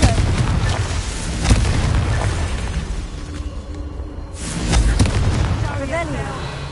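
A Confringo blasting spell goes off at rocks in Hogwarts Legacy, giving booming, rumbling bursts that swell and fade under a steady game soundscape, with a second surge midway.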